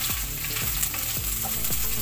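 Smoked fish (tinapa) sautéing with onion in a pan for mung bean stew: dense, constant close sizzling and crackling of hot oil, heard alone without voices.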